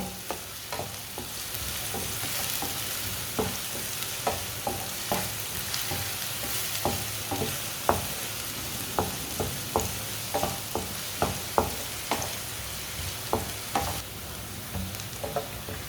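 Finely chopped onion frying in a pan until lightly browned, with a steady sizzle under regular stirring clicks of a utensil against the pan, close and moderately loud throughout, no talking.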